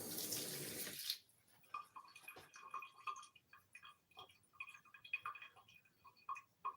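Basil leaves rinsed under a running kitchen tap while a lasagne is finished; after a brief loud gush at the start, water trickles and splashes in uneven bursts with small ticking drips, close and moderately quiet.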